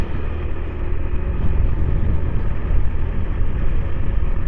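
A lorry rumbles past on a bypass road, a steady low roar that swells slightly, with no voices.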